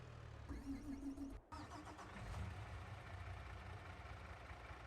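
A truck engine in the farming game Farming Simulator 22 starts and idles with a steady mid-low rumble, briefly cutting out before running on, under faint talk.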